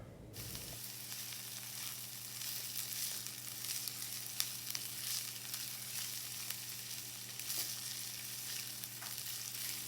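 Onions sizzle and fry steadily in olive oil in a pan over medium heat, a continuous close crackling hiss that starts right after a brief thud and runs unbroken with no talk.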